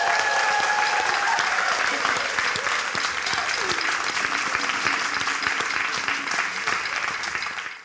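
Loud, sustained applause from a crowd at a live gospel worship concert, hands clapping thickly and evenly throughout with a faint sung or spoken tone fading early, tapering slightly at the end.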